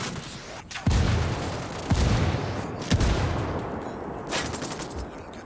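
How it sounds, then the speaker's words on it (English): Mortar and gunfire in the video game Ghost Recon Wildlands: four heavy booming impacts land about a second apart amid continuous crackling rifle fire, loud and close. "Called the rebels for mortar fire."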